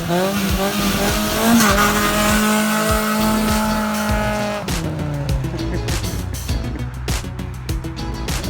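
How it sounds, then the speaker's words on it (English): A Honda Civic attempts a burnout, the engine revving high and steady while the tires squeal loudly, then the pitch drops into rougher, choppier revving and scrabbling tire noise. "First attempt at burnout."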